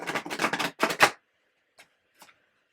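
Quick bursts of tarot cards being riffled and bridged, several rapid flurries close up, followed by a couple of soft isolated taps in near silence.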